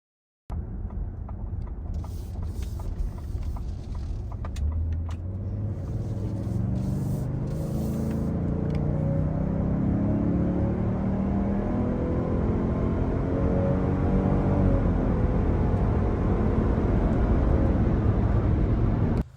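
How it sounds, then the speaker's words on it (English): A 2022 Lincoln Navigator Black Label L accelerating hard, engine note climbing steadily in pitch over a long pull with rising road and wind roar, heard from inside with no talking. "Let's go ahead and do an acceleration test."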